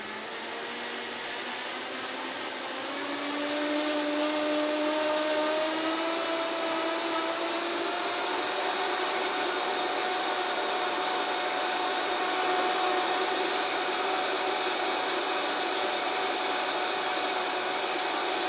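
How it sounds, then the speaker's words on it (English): Vitamix blender whirring through potato soup, a sustained loud motor whine that rises in pitch and volume after a few seconds and then holds steady alone. "So it's worth bearing with the Vitamix a little bit longer."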